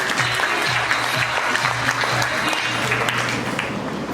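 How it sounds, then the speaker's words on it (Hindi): Audience applause at an MLM direct-selling leadership training session, steady, fairly loud clapping from a group that lasts the whole stretch, with a low hum beneath it. "जोरदार तालियां दीजिए।"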